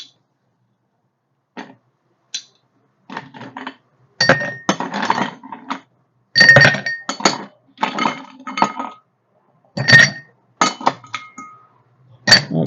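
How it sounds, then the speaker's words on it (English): Ice cubes clink and rattle into a glass stirring vessel as a stirred martini is started, with a series of sharp, close, bright knocks in irregular bursts and no talk. "we're going to start with our stirring glass and some ice."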